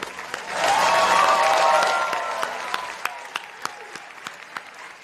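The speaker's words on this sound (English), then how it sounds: "Let's give them all one more round of applause." An audience at a university physical therapy white coat ceremony breaks into warm applause that swells quickly, then thins out into scattered individual claps that trail off.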